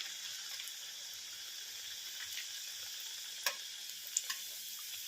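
Rice flour vada dough frying in a small amount of hot oil, giving a steady soft sizzle with a few faint crackles and pops near the end.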